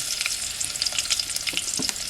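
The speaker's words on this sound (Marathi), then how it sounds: "कांदा लसूणची फोडणी आहे" Onion and garlic tempering frying in a pot in a village kitchen, a dense bright crackle of popping oil with a few soft stirring knocks, close and steady throughout.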